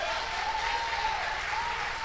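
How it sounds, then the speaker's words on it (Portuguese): A church congregation applauds during a service, a dense, steady wash of clapping from many hands filling the room, with a sustained organ or keyboard note held underneath. "Vamos aplaudir o nome do Senhor."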